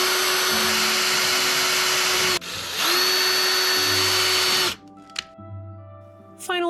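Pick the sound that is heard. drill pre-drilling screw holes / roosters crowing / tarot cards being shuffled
drill pre-drilling screw holes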